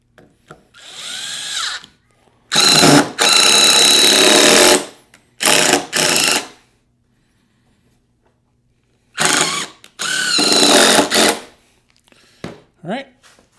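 A power drill drives screws into wood in several bursts of a second or two each, with quiet pauses between, close and loud.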